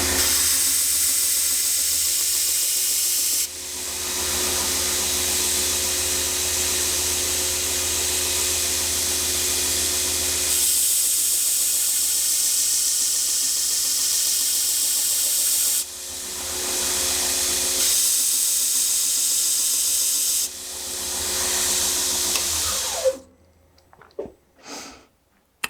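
A 2x72 belt grinder running a 120 grit belt and sharpening a knife blade gives a steady, loud hiss of belt on steel. It comes in long passes broken by short pauses, then the motor spins down at the end.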